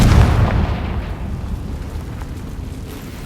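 Confringo fire spell blast in the video game Hogwarts Legacy, a loud booming burst at the start that rumbles and decays into a lingering low tail.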